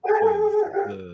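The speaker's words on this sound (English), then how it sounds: "was that a dog? Was that your dog?" A dog gives a short, loud, tonal bark-howl up close, a sustained yelp of about a second that dips and rises again, during an online call.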